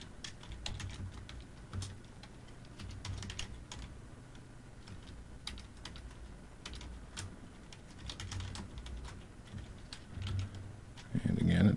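A PHP database query is being entered on a computer keyboard, with quick irregular keystroke clicks in close, quiet bursts across the whole stretch.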